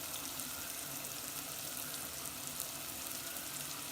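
Turmeric sizzling in hot oil in a pan during chicken biryani cooking, a steady, dense frying hiss running unbroken throughout with no voices.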